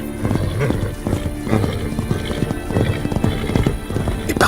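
Potiok horses, a primitive mountain breed living almost wild, clatter past in a rapid clip-clop of hooves among wild stallions, with a neigh rising over the close, busy drumming.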